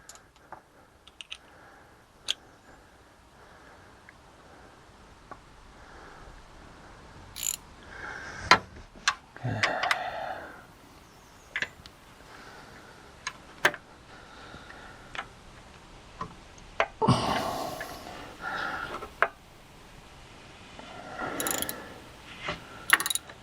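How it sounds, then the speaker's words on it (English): A ratchet fitted with an oil filter socket clicks on the oil filter of a 2012 Chevrolet Silverado, sounding in close bursts of rapid ticking with metallic knocks and a few pauses, and no talking. "I got my oil filter socket all on."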